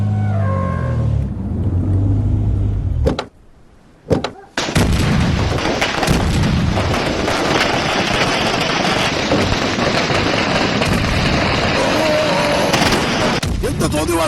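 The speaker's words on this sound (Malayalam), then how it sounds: "എടാ പടക്കം പൊട്ടിക്കലും നിർത്തടാ" Firecrackers burst in a dense, loud, continuous barrage at a celebration, with a brief near-silent gap before the rapid crackling and booms resume and fill the rest.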